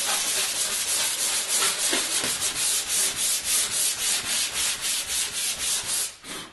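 Sandpaper rubbing steadily over the wood of a cajon, smoothing an overhanging edge flush; close, continuous scratchy strokes in an even back-and-forth rhythm, stopping just before the end.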